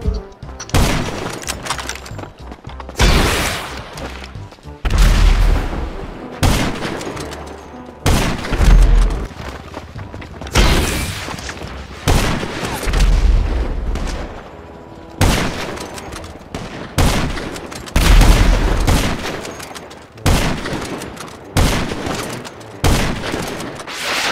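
Rocket explosions from a head-to-head video game match boom in dense, repeated bursts throughout, loud and continuous with overlapping blasts and gunfire-like volleys.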